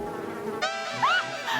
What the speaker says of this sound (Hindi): मधुमक्खी आ रही है।